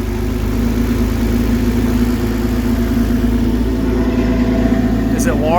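A Toyota MR2 widebody replica idles steadily through its exhaust, a loud, close, low droning rumble that holds constant for several seconds.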